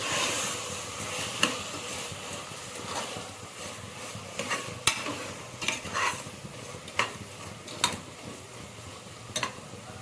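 Tomatoes and capsicum frying in a pan for capsicum tomato rice, with a steady sizzle and repeated scraping strokes of a spoon stirring through the mixture, close and alone.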